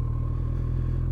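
A Kawasaki ZZR1400 motorcycle engine runs close by at a low, steady speed, giving an even pulsing rumble with faint mechanical clatter and no talk.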